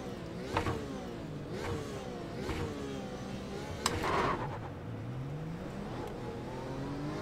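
A Porsche RSR's engine in the iRacing simulator revs up and down through repeated rising and falling sweeps, with a few sharp gear-change blips. It is moderately loud and heard alone.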